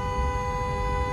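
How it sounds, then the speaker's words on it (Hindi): A car horn held in one continuous, steady blare during a driving lesson, loud and close, with no break or talk. "लॉन्ग हॉर्न पुश करो।"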